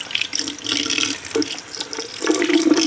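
Tap water runs steadily over raw shrimp being rinsed in a kitchen sink, a close, continuous splashing and gurgling stream with no talk.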